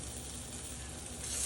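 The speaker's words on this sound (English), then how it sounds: "And now I'm going to fry them" Panko-coated slider patties frying in a pan over medium-high heat give off a steady, quiet hiss of sizzling oil, brief and continuous, with no voices.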